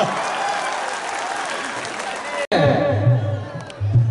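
Audience clapping at the Mithila Vibhuti Parva cultural festival in Darbhanga: a steady, dense wash of many hands for about two and a half seconds, then an abrupt cut into a voice over a low hum.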